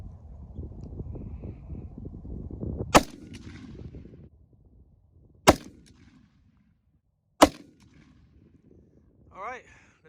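Three sharp, loud rifle reports from a 6.5 Creedmoor firing Winchester Ballistic Silvertip 140 grain rounds, spaced a few seconds apart outdoors, the first over rushing wind noise and the later ones in near quiet.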